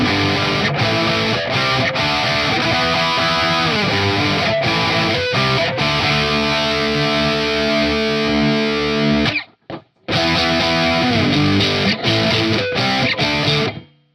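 An Ibanez S770 electric guitar is played through its bridge pickup with heavy distortion. It gives loud, close, chugging metal riffs with sustained chords, cuts off abruptly near the end of the phrase, then resumes briefly before stopping.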